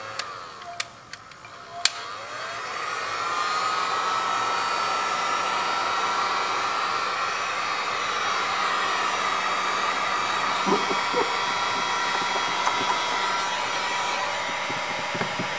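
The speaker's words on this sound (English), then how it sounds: "Sometimes I use a heat gun, get it a little warm to activate the glue." A heat gun warming the adhesive of a vinyl graphic on a Mustang GT, running as a steady, even blowing whir, with a few light taps before it starts.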